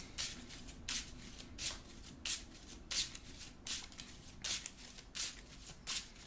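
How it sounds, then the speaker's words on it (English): A Marvel Champions card deck is shuffled by hand, close and soft, with about nine crisp riffle bursts in an even rhythm. "And we are going to shuffle up."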